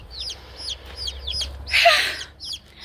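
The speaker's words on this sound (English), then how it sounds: "Problem is trying to take two babies away from a chicken who wants two babies." A hen clucking and squawking as her chicks are taken from her, a run of short repeated close clucks broken by one louder agitated squawk, with a faint hum underneath.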